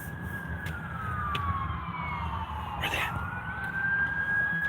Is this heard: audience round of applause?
no